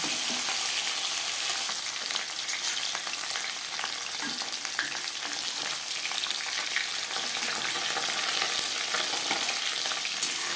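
Bhangar fish frying in a pan, a steady, dense sizzle and crackle that continues loud and close for the whole stretch with no voices.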